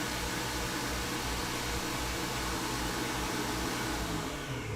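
A Kenwood stand mixer whisks meringue mixture for a mixed berry pavlova, giving a loud, continuous motor whir and whoosh that holds steady for several seconds, then eases slightly at the very end.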